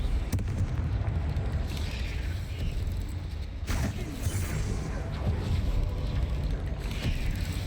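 A Confringo blasting spell in Hogwarts Legacy gives dense, loud noisy bursts over a continuous rumbling roar, with a sharp crack near the middle standing out from the sustained explosive wash.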